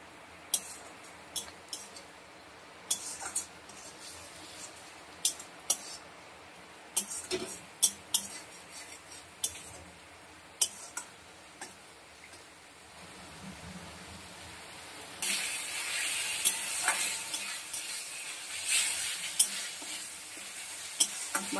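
Spice paste for katla kalia stirred and fried in a wok, with a soft sizzle under repeated sharp spatula knocks and scrapes against the metal, and a louder hiss of frying building in the second half.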